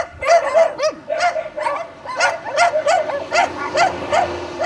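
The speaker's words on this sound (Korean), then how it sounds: "낯선 이의 방문에 소란하게 짖고 있긴 했지만 개들조차 몹시 지쳐있는 듯했다." Many dogs tied up in a yard on a vacant lot beside a road bark and yip in rapid overlapping bursts, with whimpering mixed in, at moderate distance and steady throughout.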